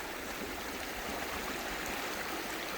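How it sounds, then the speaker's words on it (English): Rattlesnake Creek rushing steadily through Ashdown Gorge, a continuous broadband wash of flowing water heard up close with no voices over it. "I think this is Rattlesnake Creek"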